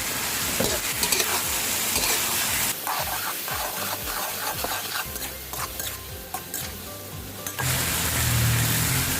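Mussels being stir-fried with holy basil, water and three kinds of chilli in a hot pan, a steady close sizzle broken by repeated scraping and clattering strokes of a spatula, with a louder hiss near the end.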